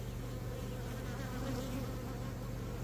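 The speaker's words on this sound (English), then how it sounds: "there's a lot of bees" Dense, steady buzzing of many honey bees close by at an outlying apiary hive, a continuous drone with no talking.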